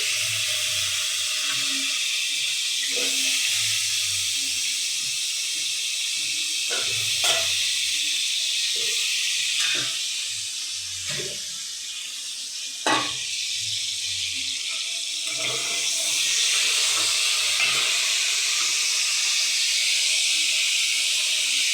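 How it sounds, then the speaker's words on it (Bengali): Potatoes frying in oil for a spiced pointed-gourd (potol) curry, a steady hissing sizzle running throughout with occasional scrapes and clicks of a utensil in the pan. "এবার আলুগুলো দিয়ে ভেজে নেব"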